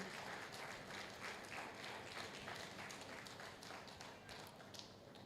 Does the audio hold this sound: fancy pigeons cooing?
no